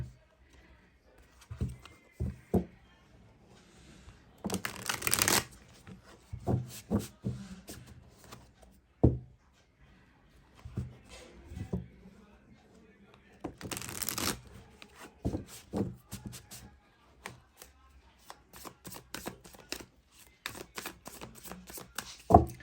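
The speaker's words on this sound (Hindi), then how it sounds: "चलिए इस डेक से भी अब हम कार्ड्स लेंगे" A deck of tarot cards is shuffled in repeated bursts of riffling and flicking, with two louder full riffles standing out among softer taps and card handling, close by and without talk.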